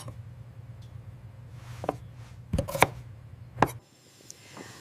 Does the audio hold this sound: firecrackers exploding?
no